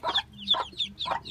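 Broody hens clucking close by, three quick throaty clucks in a short uneven rhythm, fairly loud, with no voices.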